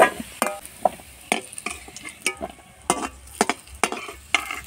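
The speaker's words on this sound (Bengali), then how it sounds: "আলুটা ভেজে নিই, ভালো করে ভেজে তুলে নিলাম আলুটা" Potatoes frying in hot oil for a vegetarian spinach curry as they are stirred, giving a steady low sizzle broken by repeated sharp scraping and clinking strokes of the utensil against the pan, close up, with no talking.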